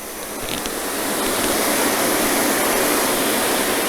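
A high-pressure water jet sprays at a self-service car wash bay, the broadband hiss swelling as the pump ramps up and then holding steady, loud and close with no voices.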